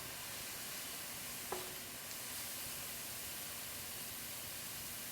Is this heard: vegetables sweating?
yes